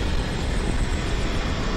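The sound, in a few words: helicopter in Skibidi Toilet animation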